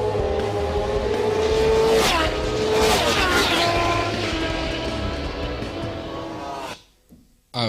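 Suzuki GSX-R1000 sport motorcycles ridden hard on a race circuit, loud high-revving engines screaming and shifting pitch as they pass close by, fading out sharply near the end, with no talk over them.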